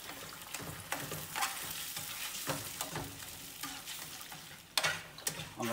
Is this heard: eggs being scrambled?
yes